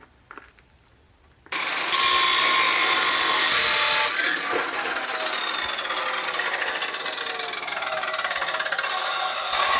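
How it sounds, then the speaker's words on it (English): A power tool cuts through an exhaust pipe for a drift Supra's side exit, throwing sparks: near-silence, then a sudden loud, continuous abrasive metal grind that holds steady for several seconds before settling into a slightly lower, rougher tone. "So Matt is going to make what we believe should be the last cut."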